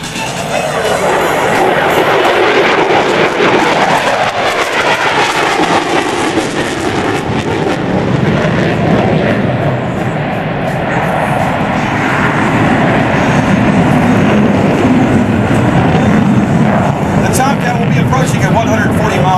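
An F-14 Tomcat jet roars past at an airshow during a tuck-under break, a loud, broad, sustained engine rumble swelling and shifting in pitch, with a commentator's voice over it.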